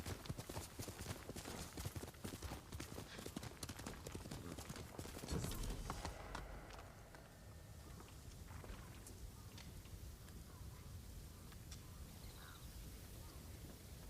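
Horse hooves in the Ghost of Tsushima game pound in quick gallop rhythm, a louder thud around a jump in the middle, then steadier footfalls with occasional crow caws over an outdoor ambience.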